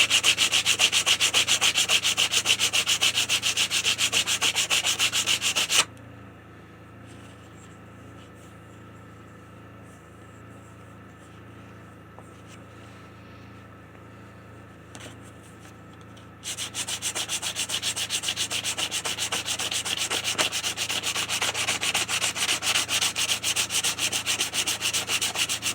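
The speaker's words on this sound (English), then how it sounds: "I want to try to sand it down more." Steady, loud abrasive rubbing of sanding on a curved wooden tri tail tuner part, running continuously in two long passes separated by a quieter gap of about ten seconds.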